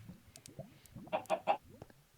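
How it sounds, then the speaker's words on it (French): Chickens cluck in the Minecraft video game, a few soft clucks rising to three louder, quick squawks in a row over a faint game background. "J'ai 3 poules, mon gars."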